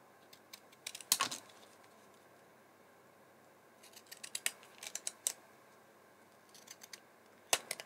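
Scissors cut a recycled Christmas card in quiet, close snips that come in small clusters with pauses between them, faint and with no speech.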